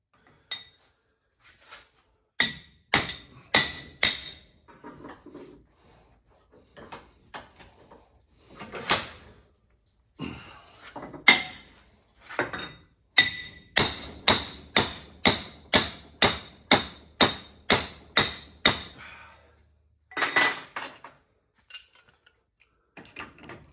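Repeated metallic hammer strikes ring out close up during a rack and pinion replacement on a Dodge Ram 1500 4x4, first scattered, then in a fast steady run of evenly spaced blows, with brief pauses between bursts.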